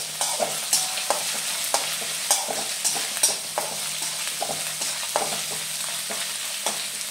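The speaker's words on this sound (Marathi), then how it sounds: "थोडीशी अद्रक लसूण, आपल्याला थोडंसं फ्राय करून घ्यायचं आहे" Ginger and garlic fry in a pan for samosa filling, a steady bright sizzle punctuated by frequent spatula scrapes and clicks in an uneven rhythm throughout.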